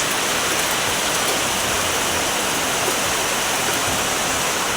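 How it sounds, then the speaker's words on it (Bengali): Heavy rain with strong wind pours down as a loud, unbroken roar of dense noise that stays close and steady throughout, with no voices. "এই দেখুন ভীষণ জোরে বৃষ্টি হচ্ছে, প্রচণ্ড জোরে বৃষ্টি হচ্ছে।"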